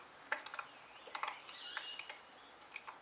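A bolt holding the lower unit bearing on a Johnson 200 hp outboard is being tightened, making faint, close ratcheting clicks in short uneven bursts over a quiet workshop background.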